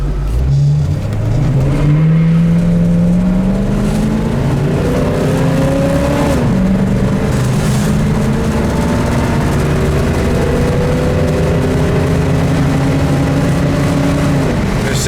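A 1965 Ford Mustang with a two-barrel carburetor and automatic kickdown accelerates hard, its engine note climbing steadily, dropping at each gear shift, then rising again, loud and close from inside the car.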